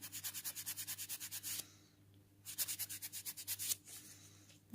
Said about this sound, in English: I'm not used to filing my nails on camera